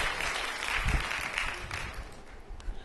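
Applause from a studio audience on a Kyrgyz morning TV show, a steady, dense wash of clapping that holds at an even level throughout, with a faint murmur of voices beneath.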